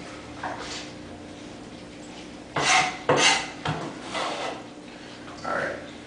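Avocado pieces are tipped into a bowl with a few distinct scraping and clattering knocks of a utensil against the dish. The sounds come close by in short bursts over a low room background.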